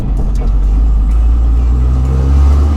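A deep, rumbling supercharged Nissan Fairlady Z Z33 exhaust idles and revs up close, a heavy low drone swelling slightly toward the end.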